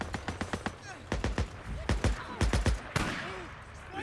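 Gunfire in the video game Days Gone: rapid bursts of sharp shots, several clustered volleys over a few seconds, with a voice talking between and over them.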